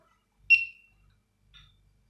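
Two short electronic beeps from a Senko sulphur dioxide gas detector alarm, the first sharp and clear, the second fainter about a second later, in a quiet room.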